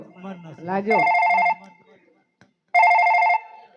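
A telephone rings in the middle of the night during a village comedy skit: after a voice speaks, two loud, close bursts of electronic ringing are separated by a pause.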